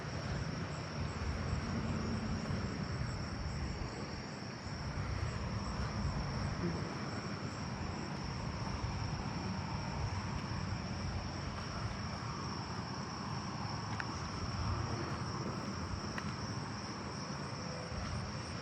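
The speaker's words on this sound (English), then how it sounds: "I'm hearing southern ground crickets over here." Southern ground crickets chirp in a yard with a thin, steady high trill running throughout, faint under a broad low rumble of distant aircraft or traffic.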